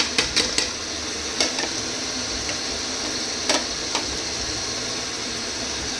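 Curry stirred in a pan with a spoon, a few sharp scraping clicks clustered near the start and middle over a steady low sizzle of frying, close and moderately loud, with no talking.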